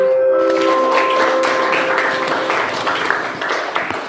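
A small classroom audience claps for Reta after a group presentation, a burst of many hands that starts loud and slowly thins and fades, with tonal voices or sounds mixed in early on.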